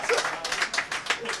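Several quick hand claps in a rapid, uneven series, close and fairly loud, with a voice faintly mixed in underneath.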